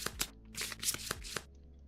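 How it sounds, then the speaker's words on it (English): Playing cards from a Kingdom Death board game being shuffled by hand, a few quick close riffling bursts and soft card slaps, quiet, with no talk. "Flip these, shuffle them up."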